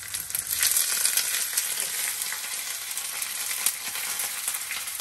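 Onions fry in hot oil after mustard seeds have popped, giving a continuous bright sizzle that stays close and even, with no talking.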